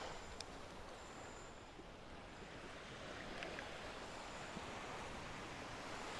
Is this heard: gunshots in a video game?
no